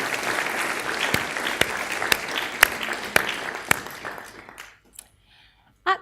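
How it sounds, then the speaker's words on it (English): A round of applause from a new members' ceremony audience, with a busy, close clapping and a few sharp louder claps that fade out around four seconds before near silence. "why don't you give him a round of applause just to show him"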